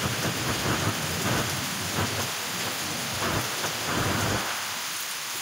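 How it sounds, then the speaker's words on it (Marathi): Heavy rain pours steadily at night, a dense continuous hiss with occasional thunder-like low rumbles, no talk, easing slightly toward the end. "पाऊस चालू."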